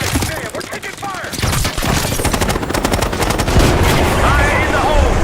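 Intense gunfire in a Call of Duty Black Ops 6 battle, dense automatic bursts and cracks rattling close and loud, building to a sustained barrage with explosions and shouting voices mixed in.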